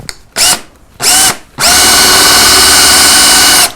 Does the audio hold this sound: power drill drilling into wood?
yes